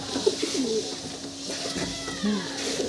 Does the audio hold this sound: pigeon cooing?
yes